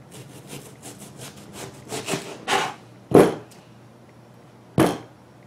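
A freshly sharpened knife cuts through liver in a home kitchen, making a series of short rasping, sawing strokes that build to a few louder scrapes, close and with no talking.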